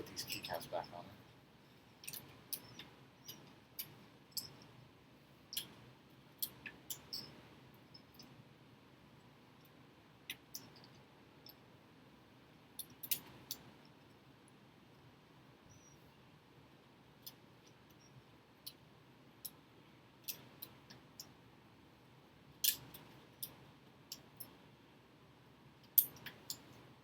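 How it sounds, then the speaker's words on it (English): Keycaps pressed back onto a mechanical keyboard, scattered faint plastic clicks and taps at irregular intervals over a quiet background. "I'm just going to put these keycaps back on it."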